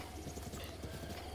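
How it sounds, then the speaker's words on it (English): A horse's hooves clip-clop in a quick, even trot in The Legend of Zelda: Breath of the Wild, the hoofbeats close and moderately loud. "Where are you going, stupid horse?"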